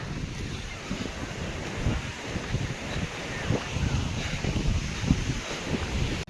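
Steady wind buffeting and surf washing along a beach on the Kerala coast near Kovalam, a continuous broad rush with no pauses.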